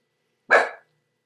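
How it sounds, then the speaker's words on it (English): A dog gives one sharp, fairly loud bark in a quiet room, short and alone with silence before and after. "That's Shaky, my dog"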